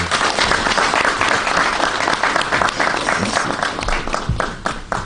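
At an awards ceremony for a prize of distinction and excellence, an audience applauds the minister in a dense, sustained burst that carries on steadily before tapering slightly at the end.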